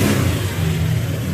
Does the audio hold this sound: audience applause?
no